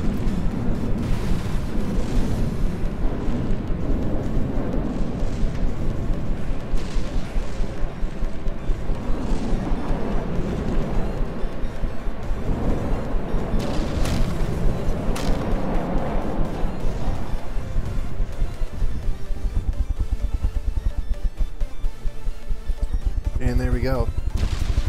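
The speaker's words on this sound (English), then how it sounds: "Comes another volley already. Looks like most of those missiles actually just went right through the middle there." Missile volleys explode during a video game battle: a dense, continuous barrage of booms and crackling blasts, loud and unbroken throughout.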